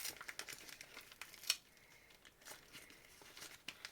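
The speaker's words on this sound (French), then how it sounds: "tu peux déchirer un petit peu sur le côté si tu veux" A paper gift package is torn and crinkled open by hand: soft, faint rustling and crinkling bursts with one sharper rip, close by and quiet.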